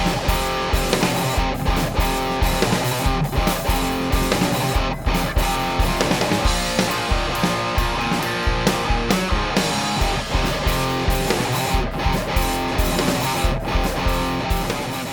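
Distorted electric guitar played through a Boss GE7 EQ pedal with about 5 dB cut at 200, 400 and 800 Hz, heard as loud, dense chugging riffs with a steady rhythmic attack alongside driving drums.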